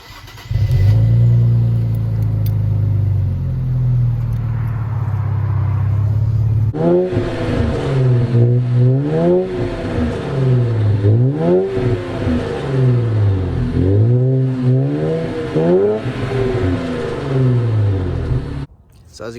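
Infiniti Q60/Q50 with a muffler delete exhaust, starting up and idling loudly, then revved repeatedly in steady rising-and-falling pulls, close and raspy throughout with no talking.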